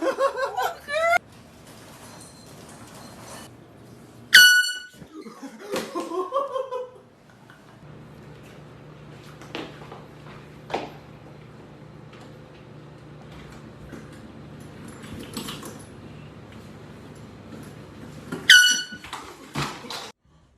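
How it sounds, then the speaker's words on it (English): A prank air horn blasts at a girlfriend in a home, sounding as a few sharp, loud bursts spaced through the clip, with shrieks and scuffling noises between them. "Annoying my girlfriend with the air horn."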